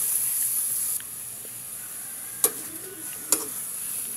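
A strong, steady frying sizzle hisses throughout as chicken for adobo cooks in a pan, broken by two sharp clanks of a utensil against the pan.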